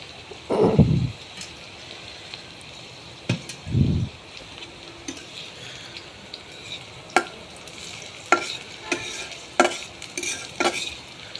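Onions frying in a pan for a dried fish curry hiss steadily while a utensil knocks and scrapes, first with a couple of dull thuds and then a quicker run of sharp clicks, close with no speech.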